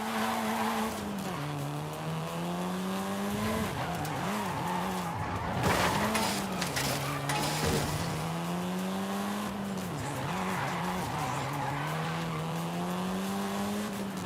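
A Volkswagen Golf R, seventh generation, driven in Forza Horizon 5, its engine droning steadily and rising and falling in pitch with gear changes, with tire squeal and skidding mixed in throughout.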